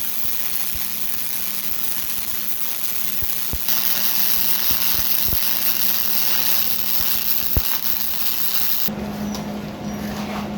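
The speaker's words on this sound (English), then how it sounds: "This supposedly can weld 3/16 steel" Welding on 3/16 inch steel for a Subaru off-road bumper, a continuous harsh crackling buzz held for about ten seconds, close and steady, with a few sharp pops and a change in tone near the end.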